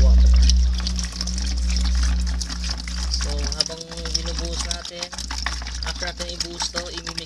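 Four liters of water poured into a container for homemade car washer fluid, a loud gushing pour that settles into trickling and sloshing, with a person talking over it partway through.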